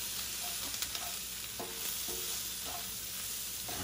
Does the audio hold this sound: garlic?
yes